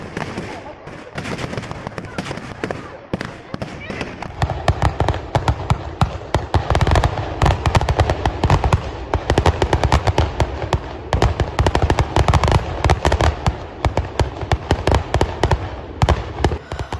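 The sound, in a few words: thousands of firecrackers exploding continuously in a field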